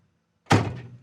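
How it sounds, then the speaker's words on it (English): A single solid 1958 Chevrolet Impala door thunk, close and fairly loud, with a short decay after the shut. "Door shuts great"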